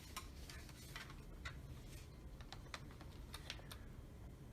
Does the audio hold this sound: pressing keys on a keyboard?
yes